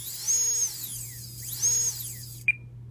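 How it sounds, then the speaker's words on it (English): A Multistar Elite brushless drone motor spinning at about one-third throttle, heard close up as a thin high whine that rises and falls twice, with a short sharp chirp near the end over a low steady hum. "listen how quiet this motor is"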